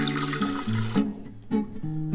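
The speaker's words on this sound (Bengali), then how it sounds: "এবার জল দিয়ে দিচ্ছি।" Water poured into a pressure cooker holding washed urad dal (biulir dal), a close, steady pouring and splashing that swells and eases over a couple of seconds, with a sloshing, tap-like character.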